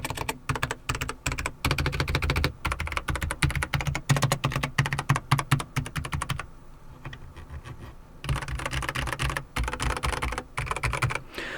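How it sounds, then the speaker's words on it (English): Steady, rapid typing on a Logitech G512 X 75 mechanical keyboard with heavy, clunky metal keystrokes, close and loud, easing briefly before resuming. "Yeah, you can hear the metal clunking right here."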